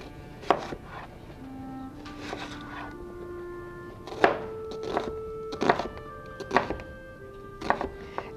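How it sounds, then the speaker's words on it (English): An onion is chopped with a knife on a board while vegetables are prepped for Thai noodles: about eight crisp, irregular chops, close and fairly loud, over a quiet kitchen background. "We've got an onion that we're going to chop."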